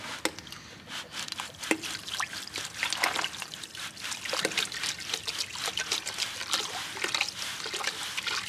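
Water steadily trickles and splashes as it fills a 425-gallon tank on a Pennsylvania farm, ready to mix with water-soluble fertilizer. The liquid churns continuously at a moderate level throughout, with no voices.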